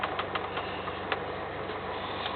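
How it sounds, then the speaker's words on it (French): Inside the cabin of a Peugeot 206 rally car with a 160-horsepower engine, a steady engine drone runs throughout, with faint rhythmic ticking and clattering over it. "donc là on est à bord de la 206 PVF, donc on a un moteur 160 chevaux sur cette voiture-là."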